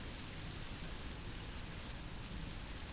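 Rain falling in the horror video game Song of Horror. A dense, even downpour hisses steadily, close and uninterrupted, with no voices.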